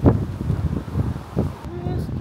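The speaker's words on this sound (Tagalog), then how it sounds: "It's so windy." Gusty wind buffeting the microphone outdoors, low rumbling blasts rising and falling throughout, with a person talking over it.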